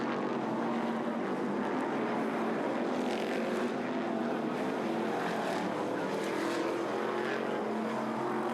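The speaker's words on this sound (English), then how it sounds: "You can hear full V8 engines roaring there, some real heavy metal." Several V8 stock car engines roar continuously on an oval race track, a dense, loud, steady blare of cars at speed throughout with no pause.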